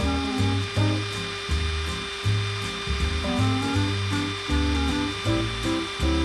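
An electric drill bores a hole through a bag and case to fit a charging connector for an electric bicycle. The motor whines loudly and steadily, revving up and down in repeated bursts close by, with no talking.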